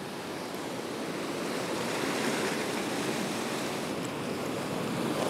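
Rough, churning ocean surf breaks continuously on a beach in murky, choppy conditions, a loud steady roar of waves with wind buffeting the microphone throughout.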